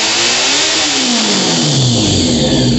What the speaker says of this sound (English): You hear it kind of sputters for a second.